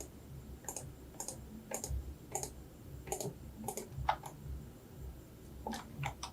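Sharp computer mouse clicks come in an uneven series of about a dozen, close and clear over low background noise while modeling in Blender.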